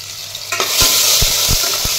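Ginger, garlic and coriander paste with turmeric fries in hot oil, a bright steady sizzle broken by a few soft scraping stirs of a spoon in the pan, close and with no talk.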